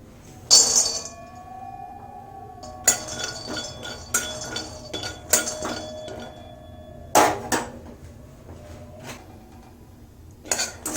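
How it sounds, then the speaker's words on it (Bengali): Nuts dry-roasting in an empty kadai give intermittent sharp metallic clinks and rattles, with scattered knocks and scrapes from stirring against a quiet background and no voices. "প্রথমে বাদামটা খালি কড়াইতে রোস্ট করে নেব"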